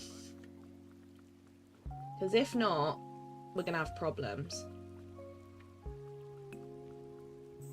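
Soft, steady rain patters in the Disney Dreamlight Valley video game, a faint continuous wash beneath sustained game music and a person speaking.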